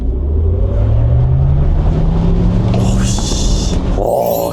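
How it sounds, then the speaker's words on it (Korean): A Maserati GranTurismo Folgore electric car accelerates hard, its motor whine climbing steadily in pitch over a heavy, continuous road rumble, loud and close throughout. "묵직하면서 무서운 가속이네요"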